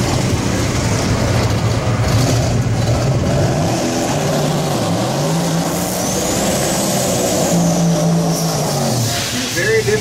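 Twin-turbo drag race cars, among them a 1968 Pontiac Firebird, roar loudly at a drag strip with rising and falling engine tones and a high turbo whine, while a voice talks over the din.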